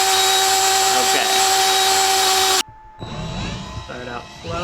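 Power drill spinning a GoPro 360 camera, started slow in first gear at about 600 RPM: a loud steady whine that cuts off abruptly midway, followed by quieter, fainter whirring and rattles.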